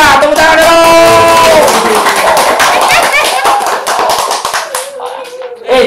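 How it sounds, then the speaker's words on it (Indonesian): Loud applause from a crowd, steady clapping with voices cheering and talking over it before it thins out toward the end. "Tepuk tangan dulu!"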